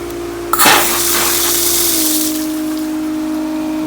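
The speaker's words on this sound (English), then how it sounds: "spitting out a whole bunch of air out of the lines" A sudden burst of gushing, sputtering water and air erupts from pool pump lines over a steady mechanical hum, then settles into a continuous churning flow beside the droning pump motor.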